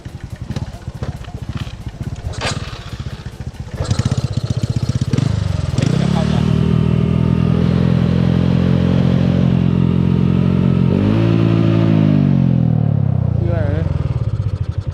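A Honda 110i motorcycle fitted with a 53 mm piston clatters at a low idle, then from about four seconds is revved hard and held at a loud, steady high pitch before easing off near the end, with voices talking at the start.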